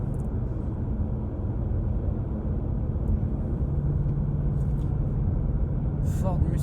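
Ford Mustang GT cruising in fourth gear on an open road, a steady low engine drone and road rumble filling the cabin continuously throughout.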